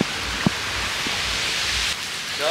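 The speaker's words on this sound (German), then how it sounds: "es regnet ja echt mies, mies, mies" Heavy rain pours steadily onto a beach in Thailand, a dense close hiss of downpour with a couple of faint knocks and a slight drop in intensity near the end.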